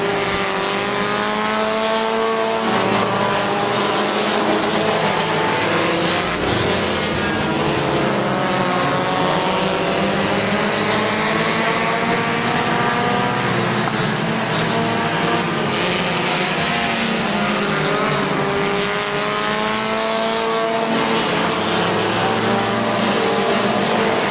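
Stock cars race at Midvale Speedway, several engines roaring loudly and continuously together, with pitch rising and falling as the pack sweeps past, no break in the din.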